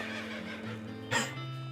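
A horse in the western game West of Loathing gives a short whinny partway through, standing out briefly over a steady musical backdrop with low tones.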